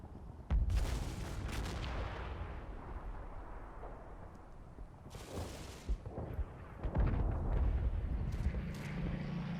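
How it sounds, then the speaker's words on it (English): Gunfire in a Combat Mission Battle for Normandy game: a Sten gun and other weapons open up in a hedgerow fight, loud booming shots and bursts at irregular intervals over a constant battle rumble. "all this sound is probably the Sten gun from this section here"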